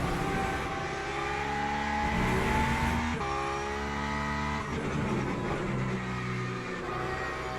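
A hypercar's race engine in a multiclass racing video game, loud and continuous, revving up and down through gear changes in sustained harmonic drones with a faint tire squeal.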